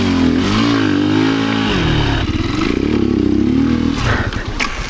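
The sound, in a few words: enduro motorcycle riding over slippery logs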